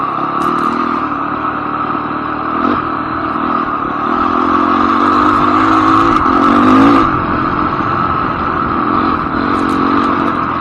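CRF250X dirt bike engine droning steadily while riding through the desert, a loud, continuous buzzing note that swells and revs briefly mid-ride amid wind and clatter.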